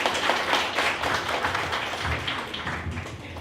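An audience applauds to welcome a speaker onto a stage, a steady wash of many hands clapping at close range that holds for several seconds without a break.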